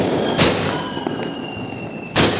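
A 60-shot sky shot fireworks cake going off during Deepawali celebrations, two loud sharp bursts separated by a couple of seconds over a dense crackling, noisy outdoor background.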